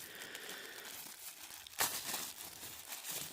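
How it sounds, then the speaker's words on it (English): Packing tape being torn open on the box of a Honeywell HWT-H01 foldable desk lamp, a steady close crinkle of paper and plastic with one sharp louder rip in the middle, no talking. "Oh, they taped it all up in here, so I'm going to have to tear this open."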